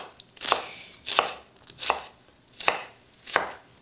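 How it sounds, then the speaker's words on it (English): Knife finely chopping an onion on a cutting board for lamb kofta, five crisp evenly spaced chops about two-thirds of a second apart, close and clear with no talk. "So I'm just chopping up one onion here."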